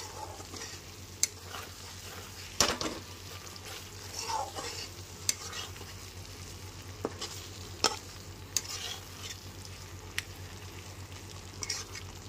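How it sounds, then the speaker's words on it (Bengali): A masala containing cashew paste is stirred in a pan over a low flame, giving a soft, steady sizzle. Scattered scrapes and taps of the spoon against the pan break through now and then, with no one talking. "যেহেতু এর মধ্যে কাজু বাদামের পেস্টটা আছে, ওই জন্য মাঝে মাঝে নেড়ে চেড়ে নিতে হবে"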